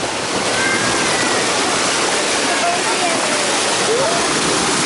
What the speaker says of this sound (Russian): Тут огромные волны, потому что маленький размер.